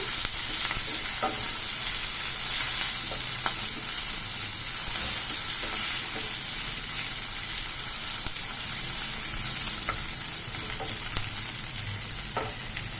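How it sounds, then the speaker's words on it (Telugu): Fresh drumstick leaves (munaga aaku) fry in an oiled pan with a steady, close sizzle and crackle, plus occasional scraping stirs, running throughout with no talking. "ఇలాగా మనం ఫ్రై చేసుకోవాలి మనకి ఫ్రెష్గా ఉంటే బాగుంటుందండి మునగాకు"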